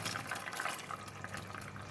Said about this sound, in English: I'm going to add in a little bit of water.